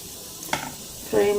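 Paneer frying in peanut oil in a home kitchen, a soft steady sizzle with a brief stir or clink midway and a louder burst of hissing near the end.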